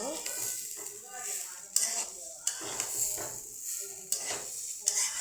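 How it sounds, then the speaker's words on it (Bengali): Polao rice grains frying and being stirred in a pan over low heat, with a steady soft sizzle and repeated scraping strokes of a spatula, close up and moderately quiet. "চাল ভালো করে ভাজা হইলে চাল ছুটতে যাবে একটা থেকে একটা।"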